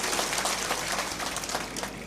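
A crowd at a political rally in Indapur taluka, Maharashtra, claps together in a dense, steady wash of applause that runs unbroken for about two seconds at moderate loudness.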